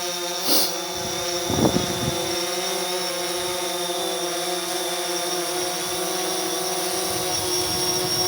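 A DJI Phantom 4 Pro quadcopter hovers close by in gusty wind, giving off a steady high-pitched propeller whine with a couple of brief knocks at the start.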